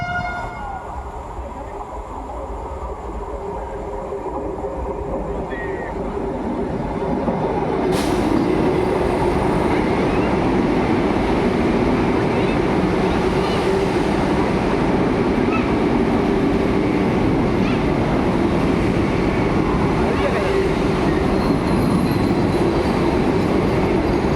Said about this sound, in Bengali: তো ট্রেনটা বন্দে ভারত আলটিমেটলি 2 ঘন্টার ওপর লেট করে এখন ঢুকছে বোলপুর স্টেশনে